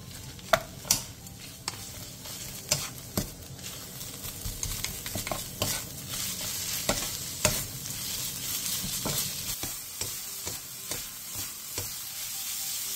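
Carrots, chili peppers and onion stir-fried over medium heat with garlic and ginger, heard as a steady close sizzle broken by repeated sharp scrapes of the spatula.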